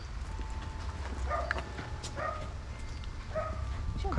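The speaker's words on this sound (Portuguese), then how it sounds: "Ó, tem cachorro aí bravo, Thaís." An angry dog barks somewhere off at a distance, a few short faint barks and yips spaced across the clip over a low steady background hiss.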